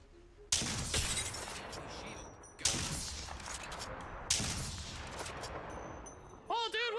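Video game gunfire erupts in three heavy, booming bursts, each ringing out before the next, loud and close, with a short voice at the very end.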